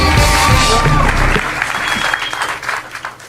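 A comedy club audience claps and cheers loudly for comedian Sarah Sloan, the burst of applause strongest at first and then thinning out.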